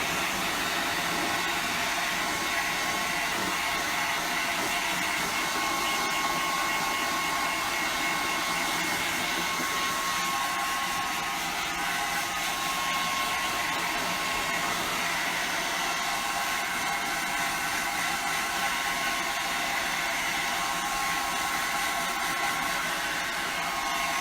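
A hair dryer blows steadily and loudly throughout, drying a freshly painted homemade bird feeder in a kids' craft activity, with a constant airy roar and no breaks.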